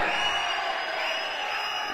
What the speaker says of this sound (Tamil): உங்களுடைய இந்த கைத்தட்டல் விசில் இது எல்லாமே யாருக்குன்னு எனக்கு தெரியும்